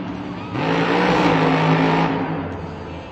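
Ryan Anderson's Son-uva Digger monster truck roars in a Monster Jam stadium event in St. Louis, its engine swelling to a loud, sustained rev that holds and then eases off, with crowd and arena noise underneath.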